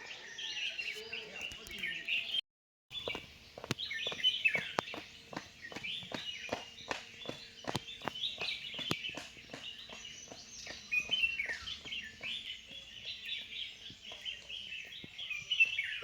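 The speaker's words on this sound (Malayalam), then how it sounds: "പക്ഷികളുടെ കളകളാരവങ്ങൾ" Birds chirp and twitter continuously on a cold, misty morning walk through a campus in Kalpetta, with regular crunchy footsteps underneath and faint insect buzz in the background.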